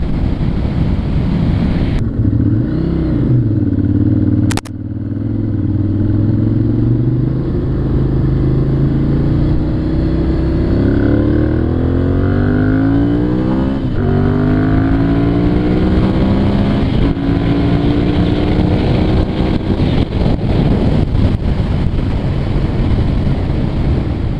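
A motorcycle engine revs hard at high RPM, its pitch repeatedly climbing as it pulls through the gear, with steady wind noise roaring across the microphone throughout.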